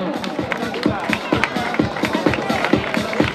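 A crowd claps at the finish of an outdoor country race, with loud, close, rhythmic hand claps in a steady beat and voices of the crowd mixed in.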